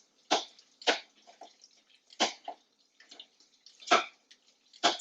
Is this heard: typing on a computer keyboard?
no